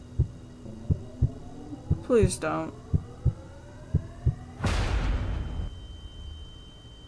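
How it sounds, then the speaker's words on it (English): Heartbeat from a horror video game thumps in a steady, loud pulse of low beats, briefly broken by a short spoken plea and a burst of noise partway through. "I don't like the heartbeat, guys."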